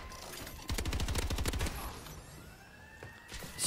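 A rapid burst of automatic gunfire in Call of Duty: Advanced Warfare, about a second of evenly spaced shots, then fading echoes and quieter game ambience.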